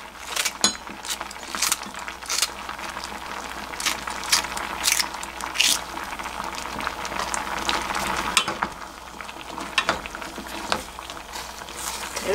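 A pot of dried squid braised in soy sauce with green onion simmers steadily, giving a dense, continuous crackle of bubbling and popping at moderate volume, with no talk.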